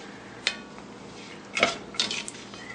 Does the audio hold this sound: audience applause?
no